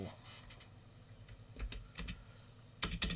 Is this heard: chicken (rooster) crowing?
no